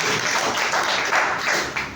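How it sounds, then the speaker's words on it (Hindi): Applause from a gathered audience honouring community workers, a dense steady wash of many hands clapping together at close range, fairly loud and continuous, tapering slightly at the end. "एक बार जोरदार तालियां होनी चाहिए ऐसे महान सबको"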